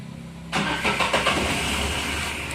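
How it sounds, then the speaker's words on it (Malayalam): A Renault Kwid engine cranks briefly and catches, settling into a loud steady idle after a quiet start. "വണ്ടി സ്റ്റാർട്ടായി."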